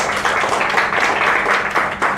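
Steady audience applause fills a lecture hall during a Thai talk on enzymes, a dense, even wash of clapping that carries on without a break for a couple of seconds.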